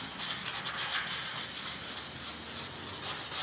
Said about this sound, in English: get some 400 grit sandpaper and start sanding the inside, which is going to get it ready for painting